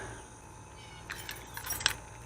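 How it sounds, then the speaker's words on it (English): Car keys jangle during work on a vehicle's battery problem: a few light metallic clinks and rattles in the second half, over a quiet background. "I have the keys."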